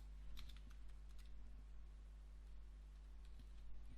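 Faint keyboard typing while accounting entries are recorded: soft, quick clicks in irregular bursts over a steady low electrical hum, with no one talking.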